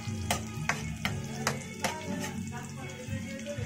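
Onions sauté in a wok, a steady frying hiss broken by several sharp utensil scrapes and taps against the metal at irregular intervals, with a voice speaking over it.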